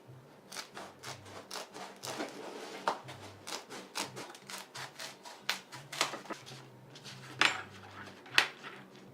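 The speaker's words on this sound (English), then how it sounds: "I'm going to cut some pieces roughly the size of my knife" Repeated crisp cutting and snipping strokes through a piece of old yoga-mat foam, a steady run of short scraping cuts up close with a couple of sharper clicks near the end.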